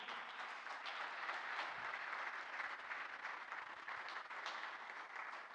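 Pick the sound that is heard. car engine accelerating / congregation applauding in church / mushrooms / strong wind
congregation applauding in church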